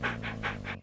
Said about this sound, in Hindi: इस घर में एक कुत्ता है।